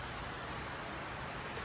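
Rain falls steadily outside a home, making a dense, even hiss with no breaks and no voices, moderately loud and constant throughout.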